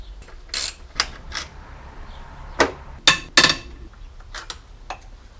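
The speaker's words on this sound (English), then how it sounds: "We can start to unbolt the alternator." Ratchet wrench clicks in short, sharp bursts while unbolting the alternator on a BMW E46, close and fairly quiet, with gaps between strokes and no talking.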